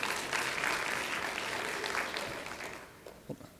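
Audience applause at a legislative educational session, a dense patter of clapping from a modest crowd that swells briefly and then tapers off toward the end.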